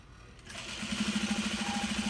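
A sewing machine starts up and runs steadily, stitching fabric with a rapid even pulsing hum of the needle catching the bobbin thread, close and continuous.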